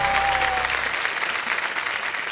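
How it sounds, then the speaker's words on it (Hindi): Studio audience applauding on the game show Kaun Banega Crorepati, steady dense clapping that carries on throughout, loud and close. A faint tone sounds briefly at the start. "इधर से ताली वाली बजती रहे"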